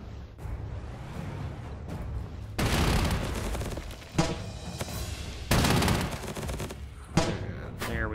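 Artillery bombardment in the strategy game Panzer Corps 2, a series of loud crashing bursts of shell fire in uneven clusters, near and dominant, separated by quieter rumbling gaps.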